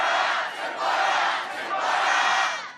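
A street protest crowd chants a slogan back in unison after a leader's call: loud, massed voices that swell in two long waves and fill the whole clip, with no single speaker standing out.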